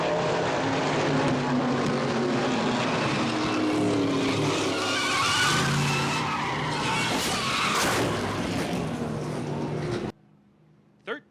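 Race cars skid through a multi-car pileup in turns 3 and 4 at Irwindale Speedway, a loud, sustained roar of screeching tires and engines for about ten seconds, then an abrupt drop to near quiet with one brief thump.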